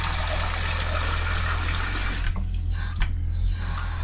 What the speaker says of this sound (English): I'll get some cold water into that